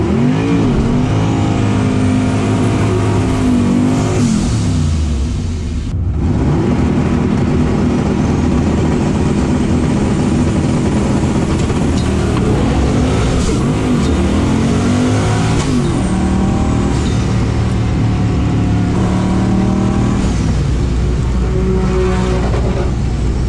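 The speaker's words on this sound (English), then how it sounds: "Burnout time." A race car does a burnout during a drag-racing event, its engine revving hard and roaring loudly and continuously with rising and falling pitch, and a brief dip midway.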